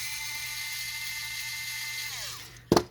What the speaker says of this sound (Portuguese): Soltando os 4 parafusos.